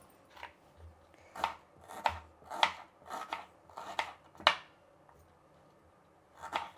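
A knife chops red onions into fairly large pieces on a board, striking about ten sharp, uneven blows at close range, with quiet pauses between and no voices.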